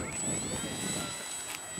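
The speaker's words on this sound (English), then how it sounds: "Jack, I'm taxiing one-handed." A Banana Hobby P-40 model airplane taxiing on the ground, its electric motor giving a thin whine with shifting tones, heard at close to moderate distance.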